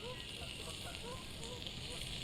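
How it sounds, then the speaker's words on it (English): Food sizzles steadily over a campsite fire beside a river, a continuous hissing crackle heard close up, with faint speech in the background. "Oh, hear that sizzle?"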